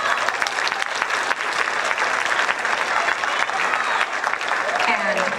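A high school band concert audience claps in a dense, sustained round of applause, loud and continuous throughout with no pause.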